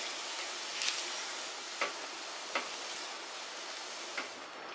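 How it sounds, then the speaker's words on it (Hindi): Steamed basmati rice is folded gently into a vegetable pulao in a pan over a soft steady sizzle, with a few faint light scrapes and taps of a spoon. "हल्के हाथ से अच्छे से मिक्स करेंगे।"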